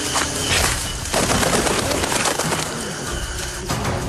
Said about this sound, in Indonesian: Burung itu menghampiri kami lagi.